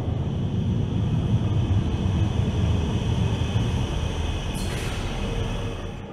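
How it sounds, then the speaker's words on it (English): A train pulls into a station in the video game Underground Blossom, a steady low rumbling roar that holds close and loud, then eases off slightly at the end, with no talking. "Your train arrives at 2:45."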